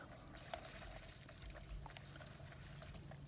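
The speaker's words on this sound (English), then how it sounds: "First thing I want to fill with water is this plant here." Water pours onto a plant in the Luigi's Mansion: Dark Moon video game, a steady, continuous trickling stream with a faint high hiss that runs unbroken throughout.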